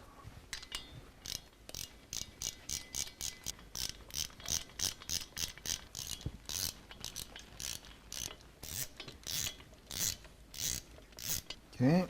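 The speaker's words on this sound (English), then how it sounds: "So I'll go ahead and torque them out this time." Rapid ratcheting clicks from a torque wrench tightening rocker box bolts on an S&S performance Harley-style V-twin motorcycle engine, a steady run of close, crisp clicks in repeated bursts with no talk.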